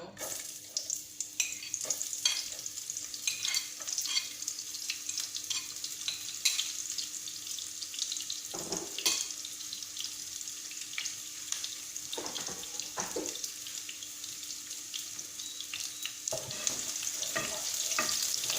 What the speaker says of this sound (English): Now we add the diced onion.